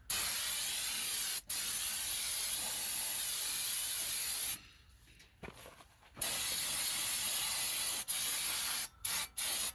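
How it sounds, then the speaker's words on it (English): A steady aerosol spray of brake cleaner hisses onto a Honda CR-V front brake rotor for several seconds, broken by brief pauses and a longer gap midway, then resumes with short bursts near the end. "now we can grab our brake cleaner and we'll spray the front and the back of the rotor"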